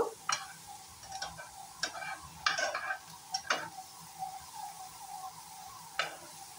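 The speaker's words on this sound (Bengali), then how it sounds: "পেঁয়াজটা জিরাটা আমি একদম লাল লাল করে ভেজে নেব।" Onion and cumin frying in a pan for an oil-free potato and pea dish, heard as a low, steady sizzle with a handful of sharp spoon scrapes and taps against the pan, close by and fairly quiet.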